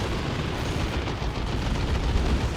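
Heavy weapon fire from a beam death gun in the real-time strategy game Warhammer 40k: Dawn of War 2, a dense, continuous rumbling barrage of booms and blasts with no clear gaps, loud throughout.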